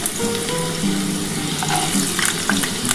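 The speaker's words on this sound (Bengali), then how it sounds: "আমি আলু আর পুঁই মেচুরিটা কিন্তু একসাথেই ভাজবো।" Potatoes and Malabar spinach stems fry together in hot oil, giving a steady, close sizzle with light crackle and a few soft stirring clicks throughout, no voices.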